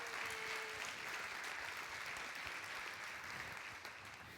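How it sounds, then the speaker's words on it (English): A church congregation at Water's Edge Church applauds steadily and evenly throughout, a sustained patter of clapping that fades a little toward the end. "So clap really loud on this one."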